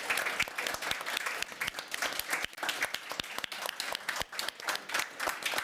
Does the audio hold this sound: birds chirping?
no